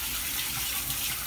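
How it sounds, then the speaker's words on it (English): Cold tap water runs over small chopped pieces of chicken liver in a sink, a steady close hiss of flowing water ending with a brief splash. "then you run it under the cold water"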